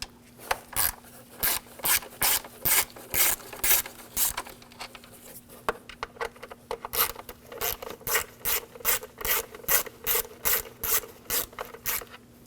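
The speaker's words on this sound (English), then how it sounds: "we're going to take these screws out for the cover. Use a 5mm hex socket." Hex socket ratchet on a 2007-2013 BMW 328i 3.0L inline-six, backing out cover screws: a steady run of quick, close, rasping clicks in rhythmic bursts, loud and alone.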